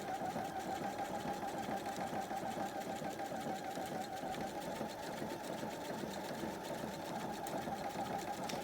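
A sewing machine runs a back-and-forth tack stitch along a drawn line on a pocket, a steady, close mechanical whirr with rapid even clicking, continuous throughout and with no talking.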